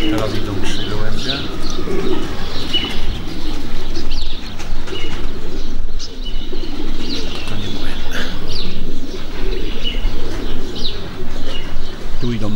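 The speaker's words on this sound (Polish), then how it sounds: "Teraz idą trzy gołębie." Pigeons coo and chirp near a loft as homing pigeons return from a 340 km race from Torgau, with occasional wing flaps under steady conversation between people nearby.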